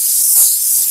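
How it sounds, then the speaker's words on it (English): Compressed air blasts steadily off a car body panel during dent repair before body filler goes on, a loud continuous hiss with one swell partway through and no talking. "I'm going to blow that off with some compressed air"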